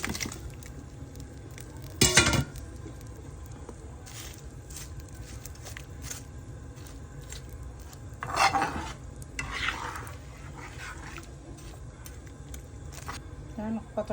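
Fish sizzles in hot oil in a pan while being stirred for a mustard fish curry, with a steady frying hiss throughout and a few louder scraping stirs.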